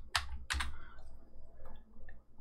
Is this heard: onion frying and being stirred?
no